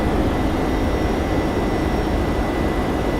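Steady, loud aircraft engine drone with a broad roaring hiss during the climb after takeoff in a flight simulator, flaps being raised, unchanging throughout with no talking.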